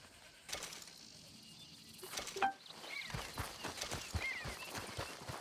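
Horse in the Red Dead Redemption 2 video game, its hooves clip-clopping in a loose walking rhythm after a quiet start, fairly close and alone without talk.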